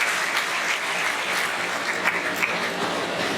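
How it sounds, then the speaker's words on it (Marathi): Applause from an audience at an academy felicitation event, dense and steady throughout, fairly close and loud, with a few sharper claps standing out, no talk over it. "म्हणून तुमच्यासाठी एकदा जोरदार टाळ्या द्या."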